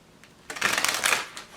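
A quick riffle of tarot cards being shuffled, a short crisp flurry of fluttering slaps up close, lasting under a second.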